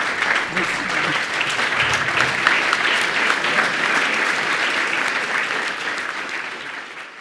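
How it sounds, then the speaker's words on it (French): A standing audience at a Montreal research and international competitiveness presentation gives sustained applause, thick steady clapping that holds for several seconds and tapers slightly near the end. "c'est vraiment par nécessité qu'on va tous se lever et vous applaudir"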